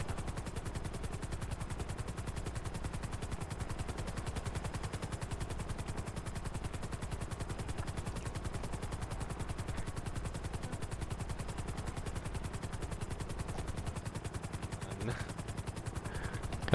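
Rapid, steady rotor chopping of a helicopter in Grand Theft Auto V drones on without pause, loud and even, with faint voice traces beneath.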